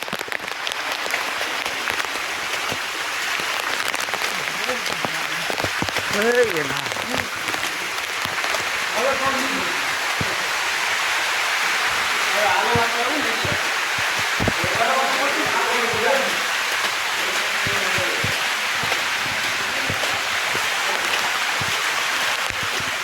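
Heavy monsoon rain pours steadily over the Girnar hills near Junagadh, a dense continuous hiss close by, with people talking under it.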